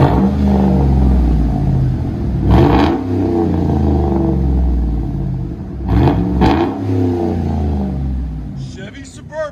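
A 2011 Chevy Suburban Z71 with a 5.3L V8 and straight-pipe exhaust, muffler and resonator removed, rumbles at idle and rises in two loud rev bursts, with talk over the engine.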